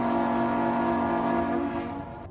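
A ship's horn blowing in fog gives one long, loud, steady tonal blast that holds and then fades near its end, with no other sound.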